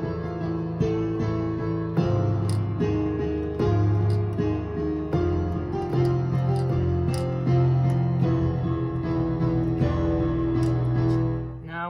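Piano plays the opening two sections of the FNaF movie intro: steady sustained chords with a repeating low bass pattern, close and evenly loud throughout, with no voice.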